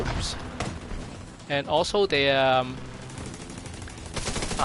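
Automatic gunfire in The Division 2 on PS4 rattles in short bursts during a firefight at the Capitol Building, loud and close against a game backdrop.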